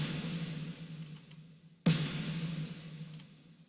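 Two heavy snare bomb drum hits for electronic music, without any gunshot layer, each a sudden cracking impact followed by a long, wide reverb tail that slowly fades.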